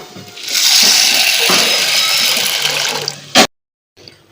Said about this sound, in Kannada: ನಾನು ಈಗ ನೀರು ಹಾಕೊಳ್ತಾ ಇದ್ದೀನಿ